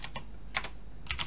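Computer keyboard typing at a desk during a GIS software demonstration: a few quiet, separate key clicks in small clusters, close and alone.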